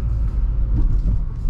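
A Ford Focus RS rolls over a bumpy road, heard from inside as a deep, continuous rumble with uneven low thumps from the suspension, close and steady, with no talking.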